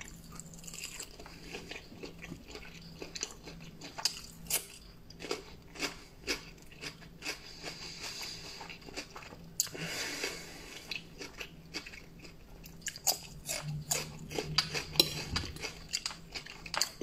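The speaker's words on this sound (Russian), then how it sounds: "ем жареную колбасу" Fried sausage being bitten and chewed close to the mic, with repeated crunchy, moist chomps at an uneven rhythm and faint clinks of cutlery or dishes in a quiet room, no talking.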